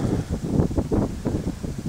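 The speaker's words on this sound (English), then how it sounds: "windy morning" Steady gusting wind buffets the microphone with low rumbling roar, rising and falling in uneven pulses, no voices present, on a clifftop above a lake in the morning with a hint of smoke.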